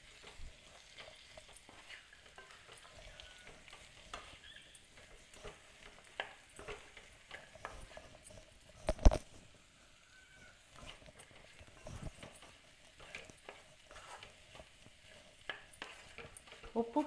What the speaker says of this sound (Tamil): சேர்த்து லேசாக ஃப்ரை பண்ணிக்கோங்க